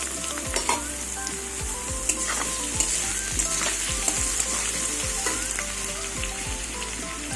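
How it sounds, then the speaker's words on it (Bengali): Potatoes frying in hot oil tempered with black cumin and slit green chillies, a continuous bright sizzle with rhythmic spatula strokes scraping the pan every half second or so, close and steady. "এবার আলুগুলো দেবো।"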